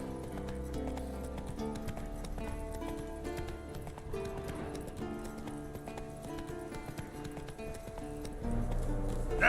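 Roach, a horse in the video game The Witcher 3: Wild Hunt, gallops with a steady, close clip-clop of hooves over continuous game music, with one brief whinny-like touch.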